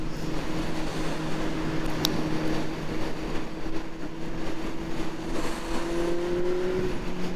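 A vehicle speeds past on a road during an autumn ride on a Honda Hornet motorcycle. A continuous engine and road drone is heard, with a rising whine building toward the end, and no one talking.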